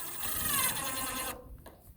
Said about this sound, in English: We're actually going to screw that up here onto our roof system.